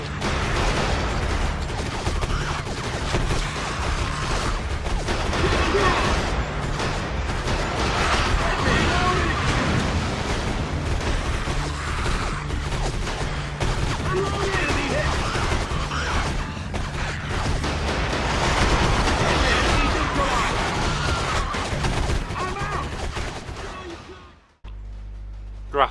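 Heavy gunfire in the Area 51 video game: dense bursts of automatic weapons and explosive blasts, with shouted voices mixed in, running continuously before cutting off abruptly near the end.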